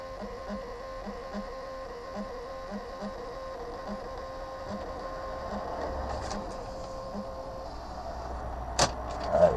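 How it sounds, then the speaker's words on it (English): A thermal receipt printer runs inside a truck cab, a steady faint whirring with a regular low ticking pulse as the paper feeds, followed by a couple of sharp clicks and a short rattle near the end. "there's a printer in there. It doesn't use ink though. It's that special paper that you get on receipts."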